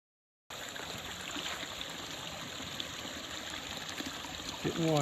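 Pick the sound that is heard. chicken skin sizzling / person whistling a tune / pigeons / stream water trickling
stream water trickling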